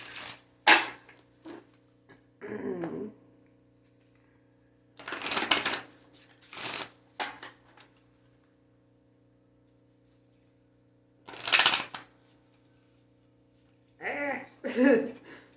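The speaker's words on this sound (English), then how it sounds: "I swear, I know how to shuffle." Several separate bursts of tarot cards being shuffled and riffled, spaced out with quiet gaps, close and fairly crisp.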